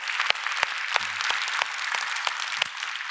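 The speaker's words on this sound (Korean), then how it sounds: "우리 한번 격려의 박수 한번 하겠습니다." Church congregation claps in encouragement for missionaries and volunteers at a Korean Friday worship service, a thin, scattered patter of hands with a few sharp individual claps standing out, fairly distant and sparse.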